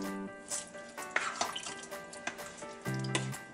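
White beans with sausage are stirred in a saucepan with soft scraping and light clinks, repeating irregularly over a quiet sizzle, close and fairly faint.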